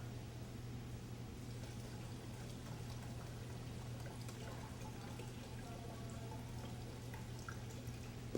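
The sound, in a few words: pouring liquid into a jug of water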